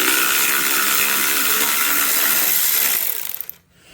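A hand ratchet works loose the lower subframe bolt on a 2023 Beta 430 Race Edition motorcycle, a rapid, dense run of close metallic clicks that stops abruptly just before the end.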